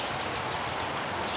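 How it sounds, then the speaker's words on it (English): Steady rain falling outside on a Houston evening, a soft even hiss of drops on surfaces, faint and continuous with no voices. "And it keeps raining, like it is not chill, you guys."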